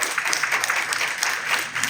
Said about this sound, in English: So if we could give them a round of applause again, I think that'd be wonderful.